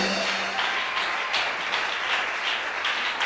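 A church congregation applauds as a dense, steady wash of clapping, and the sound stays full and even from start to finish.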